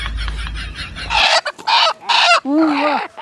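Chickens cluck in a short, loud run of separate calls, with a steady low hum underneath at the start.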